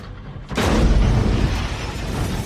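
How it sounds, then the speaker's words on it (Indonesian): A big explosion as a burning car rams into police in a bank-robbery film, bursting in suddenly and loud with a deep booming roar that holds steady and rumbles on without dying away. "dan ledakan besar pun terjadi"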